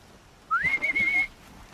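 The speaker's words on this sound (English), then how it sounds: "And now let's whistle again." A character whistles to lure machines in Horizon Zero Dawn, giving one clear rising whistle that holds steady for nearly a second over faint game ambience.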